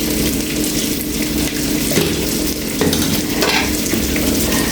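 Spice masala for a Kerala-style tilapia biryani fries in a pan, crackling and sizzling loudly and close, with stirring scrapes and clinks of a utensil throughout.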